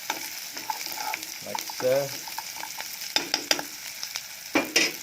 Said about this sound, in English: You just need to saute a couple minutes of this,